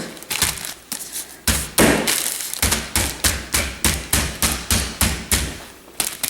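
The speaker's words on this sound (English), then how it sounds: "and bang it with my can of beans." A can of beans pounds chicken pieces sealed in a Ziploc bag, about a dozen loud, steady thuds in a regular rhythm, close by with no talking.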